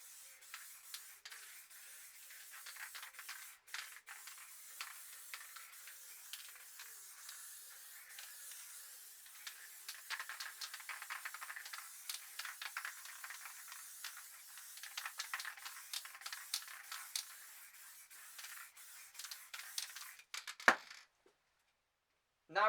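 A spray can hisses steadily as black paint is sprayed over a sheet for spray paint art, in a long continuous burst with small pulses and rattles, stopping briefly near the end before a short final spurt.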